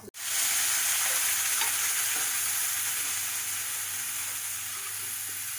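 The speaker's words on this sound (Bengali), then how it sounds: "ডালিয়া দিয়ে এটাকে ভালো করে ভেজে নিও" Cracked wheat (dalia) frying in a pan for a sweet halwa gives a steady, close, dense sizzle that holds evenly throughout with no voices.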